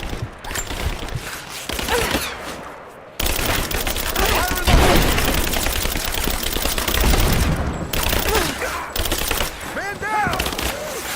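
Gunfire in the video game Rise of the Tomb Raider: bursts of automatic fire and scattered single shots in a chaotic firefight, with shouted voices and clattering effects throughout.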